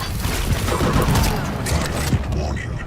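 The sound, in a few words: Tri-Bolt firing 3-shot bursts of exploding bolts, video game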